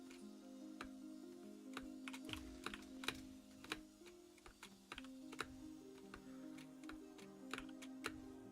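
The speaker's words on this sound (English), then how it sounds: "You guys can probably hear my keyboard clicks like mad too." Rapid keyboard clicks from a computer keyboard, sharp and close, sound in irregular bursts over a steady tonal hum, with no talking.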